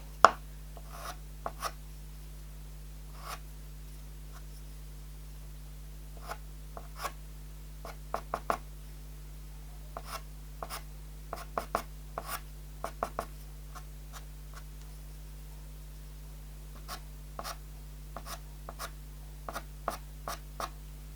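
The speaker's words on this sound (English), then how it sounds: "Can start to use a bit of pastel pencil." Pastel pencil drawing on paper, with sparse light scratchy strokes and taps scattered irregularly over a quiet steady background hum.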